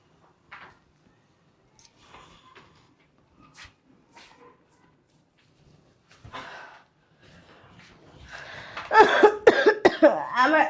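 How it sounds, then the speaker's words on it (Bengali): A sick person coughs, first with a few faint scattered coughs and throat sounds amid quiet, then a louder burst of harsh, strained coughing near the end. "কাশি আইতেছে"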